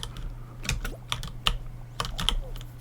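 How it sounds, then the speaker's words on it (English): Bursts of fast, clacky typing on a loud mechanical computer keyboard with blue or brown switches, close and crisp over a steady low hum, with irregular clusters of sharp keystrokes. "that's why my keyboard is so loud"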